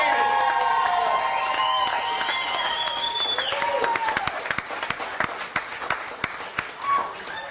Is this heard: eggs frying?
no